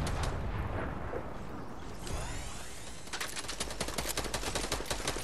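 Fortnite gunfire: a rumbling, busy battle din turns into a fast, steady string of close shots that rattles on for the last couple of seconds, with no talk over it.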